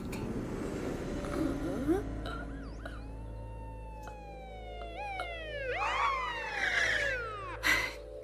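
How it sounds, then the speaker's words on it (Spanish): Wailing ambulance siren in a film scene, rising and falling in long sweeping tones that swell louder toward the end, heard over low background rumble with faint voices early on. "Enviar una ambulancia cuando alguien ya está medio muerto."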